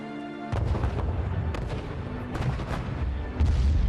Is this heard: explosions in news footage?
yes